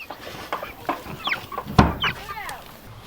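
Chickens on a small working farm cluck in short, scattered bursts, close by and moderately loud, with one sharper squawk in the middle and a soft outdoor background underneath.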